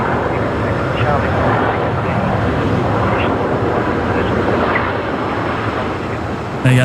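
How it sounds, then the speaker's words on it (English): A Virgin Boeing 737 Max 8 arriving at Brisbane Airport at night from Sydney produces a loud, steady jet roar throughout, with people talking over it. "The Max 8s coming in from Sydney tonight."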